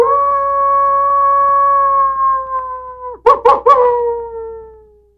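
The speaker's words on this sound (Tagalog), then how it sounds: "Tama, ito ay tunog ng lobo. Sa Ingles, wolf." A wolf howls alone in one long, steady, drawn-out tone lasting about three seconds, followed by three short, sharp yips and a final fading howl.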